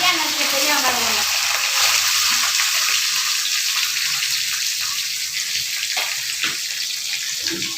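Finely chopped large onions frying in hot oil in a pan, a steady loud sizzle close by with a few stirring scrapes, no talk.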